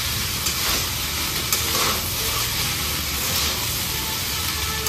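Milk fried rice with sugar is stirred in a hot pan, giving a steady close sizzling hiss with soft scraping throughout and no talking.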